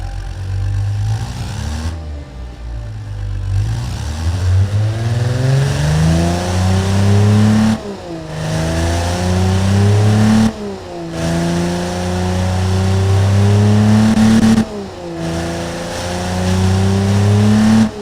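Tuned car engine with high performance intake, carburetors and exhaust in a video game revs repeatedly, rising and falling through several strong pulls with brief gaps between them, loud and steady, with no talk.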